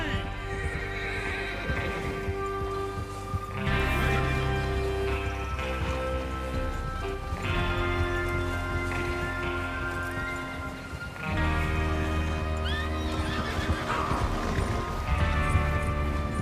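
Horses in Red Dead Redemption 2 whinny loudly several times over a rumbling bed of hoofbeats and ambient noise, with sharp neighs recurring every few seconds.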